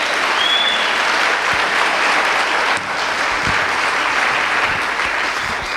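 A church congregation claps hard and continuously, a dense, loud wash of many hands striking together in a steady roar that barely dips.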